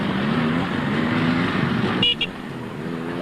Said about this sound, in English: Did you hear the warning signal then?